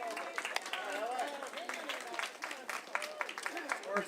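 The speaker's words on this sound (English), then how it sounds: "Appreciative crowd there" A crowd at a women's semi-final tennis match breaks into steady applause, a dense patter of claps heard at a moderate distance, with voices speaking over it.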